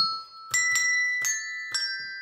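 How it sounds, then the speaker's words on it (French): Small bells of different pitches ring one after another, four clear bright strikes with long sustained tones, close and alone, used for ear training in a dyslexia-focused setting. "Nous avons des petites cloches qui font des sons différents."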